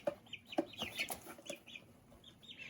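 Five-week-old chicks in a small flock cluck and peep in a run of short, close calls, a few sharper chirps standing out over soft, scattered clucking.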